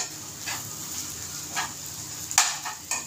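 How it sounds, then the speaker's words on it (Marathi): Dried shrimp (sukat) and potato frying in a pan with onion and garlic for a spicy sukat kalvan: a soft, close, steady sizzle broken by a few brief louder crackling spurts. "सुकट आणि बटाटा चांगली परतून घ्यायची"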